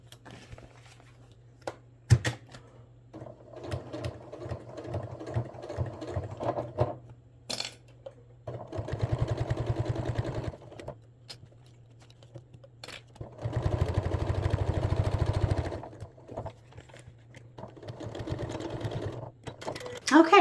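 A sewing machine top stitching a fabric bag runs in several bursts, its rapid needle chatter starting and stopping with short pauses between runs, close and moderately loud, with clicks and handling noises in the gaps.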